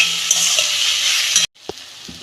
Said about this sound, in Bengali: এইটাকে আমি ভালো করে একটা ভেজে নেব।